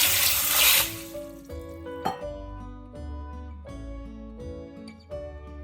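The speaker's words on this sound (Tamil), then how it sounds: "இதை நான் 2-3 மணி நேரம் தண்ணி ஊற்றி ஊற விட போகிறேன்." Water is poured over a cup of green gram to soak, making a brief, fairly close splashing rush that lasts about a second. Steady tonal music follows.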